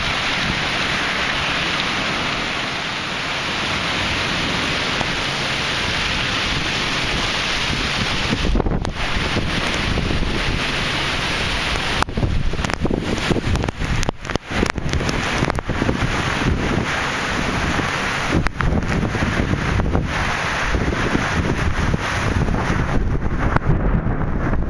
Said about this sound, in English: Maybe we are getting some wind now.